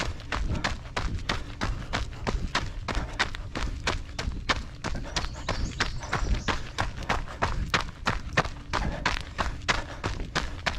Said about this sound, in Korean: 흙 위에 내딛는 저희 발자국 소리가